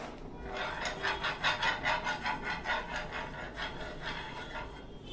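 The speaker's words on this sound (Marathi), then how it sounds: "इथे मी थोडंसं तेल आधी तव्याला लावून घेते" A little oil is rubbed across a tava (flat griddle) in steady, rhythmic back-and-forth strokes before mixed-flour dhirde batter is poured, a close, moderately loud scraping with no talking.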